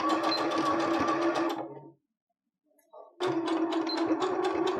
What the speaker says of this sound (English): So back stitch, raise your needle, jump ahead just about 2 inches, and then you want to back stitch again and keep sewing.